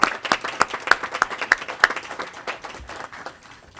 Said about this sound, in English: I'm going to give him a round of applause for all his work for the district.